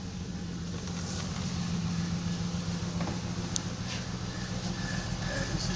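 Steady low grinding hum from the rear driver-side axle of a car in drive, continuous and fairly loud over several seconds with a faint rattle on top.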